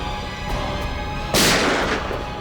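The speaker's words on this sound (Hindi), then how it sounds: "मैं गोली चला दूंगा।" A single loud, sharp gunshot rings out in a TV crime drama scene and then decays, with a few fainter cracks and noises in the background.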